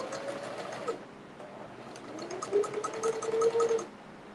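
A domestic sewing machine top stitches a child's purse in two runs, its needle chattering steadily with a rising whir that pauses briefly before picking up again, close and alone.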